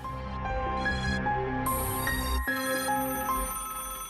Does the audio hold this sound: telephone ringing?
yes